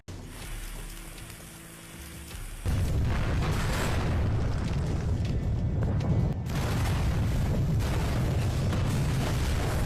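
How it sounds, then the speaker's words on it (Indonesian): A prison explodes in an animated story: a sudden heavy blast erupts after a quieter start, followed by a sustained roaring rumble of debris and crackling that continues to the end. "akhirnya penjara itu meledak dan menghancurkan segala isi di dalamnya"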